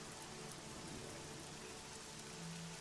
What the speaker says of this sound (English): It's nighttime, as you can hear the rains coming down.